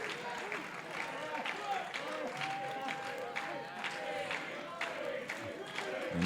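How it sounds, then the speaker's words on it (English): A pro wrestling crowd roars and claps throughout, cheering steadily to rally behind Ricky Starks in his match against MJF, a dense continuous din with scattered shouts and a whistle cutting through. "This crowd trying to rally behind Ricky Starks here."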